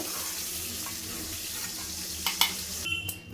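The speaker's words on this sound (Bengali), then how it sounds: "চিংড়ি মাছটা লাল করে ভাজা হয়ে গেছে" Prawns fry in hot oil in a wok, a steady sizzle with a few sharper clatters and spattering bursts toward the end.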